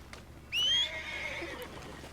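A horse in the Red Dead Redemption 2 video game gives one sharp, rising whinny that fades into a rougher trailing neigh, heard close and clear over quiet background ambience.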